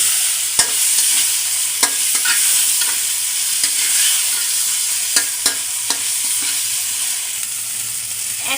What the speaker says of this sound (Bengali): এখন মাছগুলো দিয়ে দেবো। মাছগুলো দিয়ে নেড়ে চেড়ে নেব।